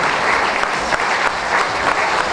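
An audience applauds dancers at a dance show, dense, loud, sustained clapping from a full crowd filling the hall without a break.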